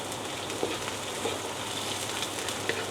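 Garlic frying in a pan for Thai pad kra pao, a steady close sizzle with faint crackles and light stirring ticks running throughout.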